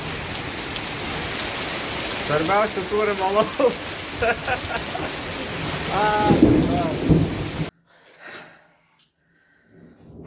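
Heavy rain pours in a dense, constant roar while people talk and laugh over it, then everything cuts to near silence at the end.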